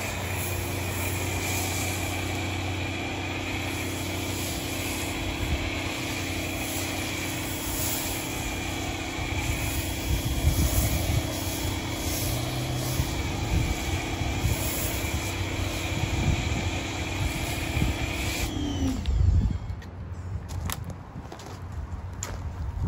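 An Amazon foam cannon sprays soap onto a car in a steady, loud hiss that runs almost unbroken, then stops abruptly near the end.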